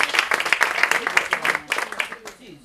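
An audience applauds at a live event with a Chinese medicine stand, a dense stretch of overlapping hand claps that keeps going and fades slightly near the end, with voices mixed in.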